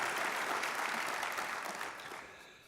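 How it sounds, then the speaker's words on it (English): Warm audience applause at an award presentation, a dense burst of clapping that holds steady and then fades out over the last second. "I'd like to ask for another great round of applause for Ian Rowland"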